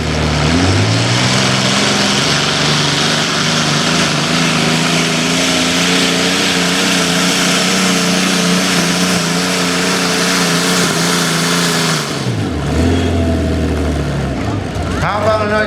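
A pulling tractor with twin engines, called Live Wire, roars at full power through a tractor pull run, a loud sustained droning engine note that holds steady for about twelve seconds, then cuts off abruptly, leaving an announcer's voice over the grounds.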